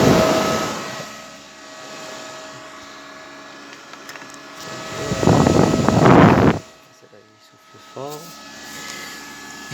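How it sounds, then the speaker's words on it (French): A loud cooling fan on a homemade lab power supply whirs steadily with a tonal hum, joined midway by a louder burst of rushing air; a voice speaks briefly near the end. "Par contre le ventilo fait beaucoup de bruit."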